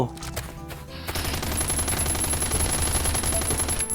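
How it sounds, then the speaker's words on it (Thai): Rapid bursts of AK rifle gunfire in the video game Last Island of Survival, dense and loud, following a short quieter lead-in. "แล้วเป็นเสียงปืน AK ด้วยนะ มาอยู่ใกล้บ้านเราเลย"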